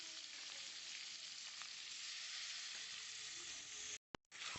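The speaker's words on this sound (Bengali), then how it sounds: "তেলটা তো খুব গরম হয়ে গেছে" Loud, steady sizzling of catla fish frying in very hot oil, continuous and close, cutting off abruptly near the end.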